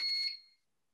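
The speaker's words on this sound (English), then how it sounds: "is that the fire alarm?" A fire alarm gives a short, sharp electronic beep that fades out quickly and leaves silence behind it.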